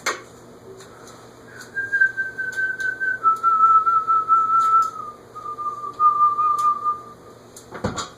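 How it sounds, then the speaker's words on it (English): Someone whistles a slow, wavering tune in a quiet room, a single clear tone sliding gently between pitches, with a faint clunk at the end. "I'm not supposed to whistle."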